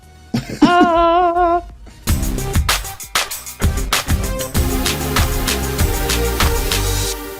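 A voice gives a tonal, sung-like vocal sound, then harsh coughing and throat-clearing bursts follow, loud and close, ending in a rough sustained rasp.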